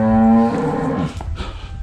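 A well-kept cow on a rural hillside in southern Minas Gerais gives a single loud, deep moo close by, held for about half a second before trailing off, with faint outdoor noise afterward.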